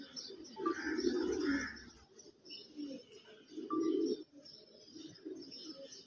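Pigeons coo in soft, repeated bursts, some close and some a little farther off, with faint chirps between the calls and no talking.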